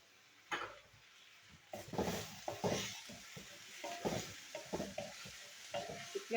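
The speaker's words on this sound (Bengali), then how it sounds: "পেঁয়াজটা আমি ভেজে নিই।" Onions sizzling in a pan with steady, busy stirring, a spoon scraping and tapping against the metal in quick irregular strokes, close and fairly loud.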